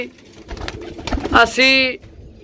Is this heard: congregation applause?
no